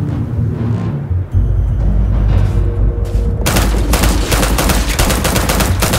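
Rapid gunfire erupts from an enemy shooter in the sci-fi video game Starfield, heavy low thuds early, then a loud dense burst of automatic shots crackling continuously through the second half.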